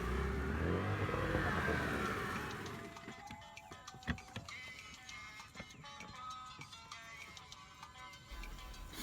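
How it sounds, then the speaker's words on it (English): A boat engine starts and accelerates on a trip to an island, a rising close revving roar that then settles into a rough, uneven running sound with knocks and clatter. "So he's turning on the engine."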